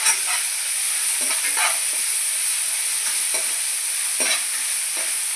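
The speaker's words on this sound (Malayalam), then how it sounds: "മീഡിയം തീയിൽ വെച്ചിട്ട് നമുക്ക് കൊച്ചുള്ളി ഇട്ട് കൊടുക്കാം." Small onions, crushed with a stone, frying in a pan over a medium flame for a clam roast: a steady close sizzle with repeated scraping stirs, with no talking.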